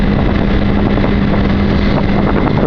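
Motorcycle making a quick overtake of another vehicle on the road, a loud continuous engine drone mixed with heavy wind buffeting on the microphone, steady throughout with no speech.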